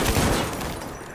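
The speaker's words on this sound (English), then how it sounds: "Gosh, that gunshot is loud." A loud gunshot in a video game bursts at the start and trails off into a rumbling decay, with no talking over it.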